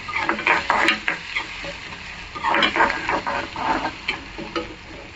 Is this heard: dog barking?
no